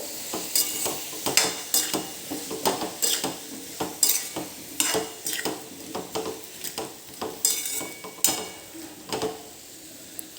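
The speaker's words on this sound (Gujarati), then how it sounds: "હવે આને એક વખત હલાવી લેવાનું છે" Spiced onion and potato curry is stirred in a pan, with repeated scraping and clanking of a spoon against the metal over a low sizzle, in an uneven rhythm of strokes.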